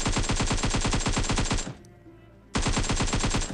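Rapid automatic gunfire in the PUBG video game, loud close bursts of evenly spaced shots that stop for about a second, leaving quiet game ambience, then resume just as hard.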